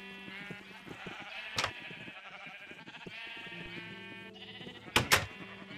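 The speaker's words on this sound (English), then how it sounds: "So I'm going to need to grab some sheep." Sheep in the Minecraft video game bleat in a short series of calls over a soft, steady game background, with a couple of sharp clicks; moderately quiet and fairly close, with no speech.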